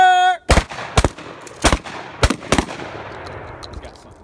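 Five loud, sharp gunshots crack from a Mossberg 500 or Glock 17 at an outdoor shooting range, spaced irregularly over about two seconds, each followed by a decaying echo.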